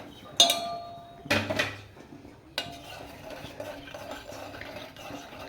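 A spoon stirs sugar into a coffee mixture, with a few sharp clinks against the cup followed by quieter scraping swirls, close and alone.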